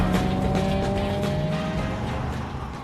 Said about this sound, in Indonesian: Setelah itu, Darius dan Michael langsung menaiki mobil lalu pergi dari tempat tersebut